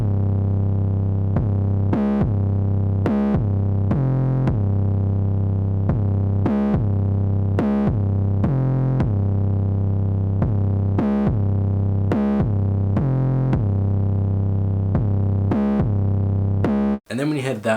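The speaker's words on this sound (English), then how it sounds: "So I came up with a very simple bass line that went really well with the main melody" A simple distorted synth bass line for a hip-hop beat, repeating short plucked notes in a steady looping rhythm, loud and alone before cutting off near the end.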